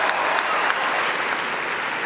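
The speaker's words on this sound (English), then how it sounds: "Yes, give yourself a round of applause," Graduates of the class of 2017 applaud themselves at a ceremony, producing a steady, even wash of crowd clapping that holds at moderate loudness for a couple of seconds.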